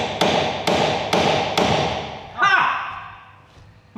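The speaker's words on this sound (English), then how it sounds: "That were a satisfying clunk." Fiesta ST150 coilover suspension being fitted: four sharp, evenly spaced metallic knocks, then a heavier clunk as the part seats into place, close by, with a voice remarking briefly afterward.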